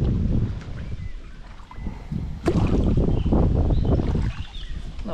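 A fishing boat drifts slowly on a carp lake with its engine off. Water laps softly against the hull and wind rumbles steadily across the microphone, and a sharper knock or splash sounds midway, with no talking.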